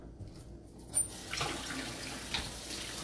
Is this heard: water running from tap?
yes